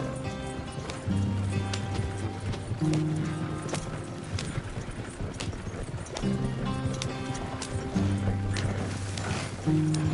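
Horses gallop in the game Red Dead Redemption 2 with a steady clip-clop of hooves, joined by a loud, continuous rumbling drone. No one speaks.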